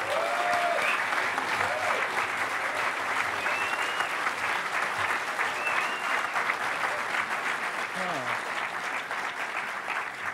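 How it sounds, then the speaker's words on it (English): A large keynote audience at a hacker conference applauds a speaker taking the stage, sustained loud clapping with a few whoops rising over the steady roar. "Let's give him a big round of applause."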